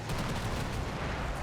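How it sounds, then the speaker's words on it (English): Autocannon fire in the WWII tank game Combat Mission: Battle for Normandy, a dense, continuous rattle of rapid shots with rumbling low end, steady and loud throughout with no talk. "Autocannon doing its work."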